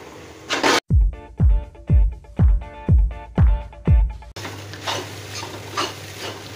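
Poha tipped into a pan with peanuts and stirred, a run of about seven evenly spaced metallic scraping knocks from a spoon against the pan, then a softer sizzling rustle as the mixing continues.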